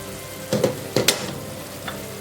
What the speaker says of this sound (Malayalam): നല്ലപോലെ ഒന്ന് തിളച്ച് വെന്ത് വരട്ടെ